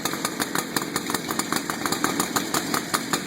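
A gas-powered saw engine warming up, loud and close, with a steady fast putter and rhythmic pulsing idle that runs throughout without pause.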